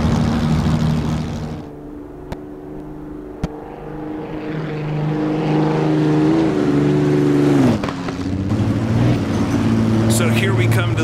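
The Napier Railton race car's engine on a flying lap in Assetto Corsa, a loud sustained roar that dips and rises in pitch as the car works around a banked track, with a sharp shift near the end.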